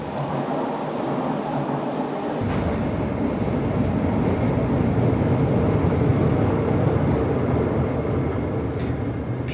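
Tokyo subway train on the Oedo line rumbling steadily, loud and close, a broad continuous roar that swells abruptly after a couple of seconds and holds with a faint high whine above.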